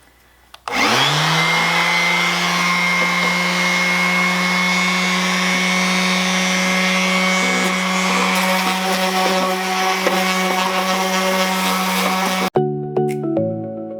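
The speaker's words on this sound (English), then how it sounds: "let's see if that sander does the job" A cheap orbital sander buzzes steadily and loudly on a wooden bird feeder, grinding stickers off for about twelve seconds before it cuts out, followed by a few light knocks.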